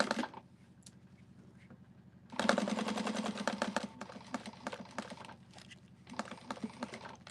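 A sewing machine back stitching while basting a Lyra garment from a Petal Sewing Patterns pattern, using a skinny presser foot: a quick run of rapid mechanical stitching, a pause, then longer bursts of steady whirring stitches close by.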